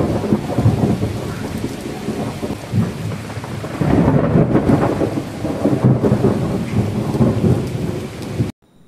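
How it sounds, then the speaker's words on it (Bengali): Heavy rain pours steadily in a thunderstorm, loud and close, with deep rolling thunder swelling through much of it before the sound cuts off near the end. "সন্ধ্যে থেকে এত জোরে জোরে বৃষ্টি পড়ছিল, ঝড় হচ্ছিল, তার সঙ্গে সঙ্গে জোরে জোরে আবার বিদ্যুৎও চমকাচ্ছিল"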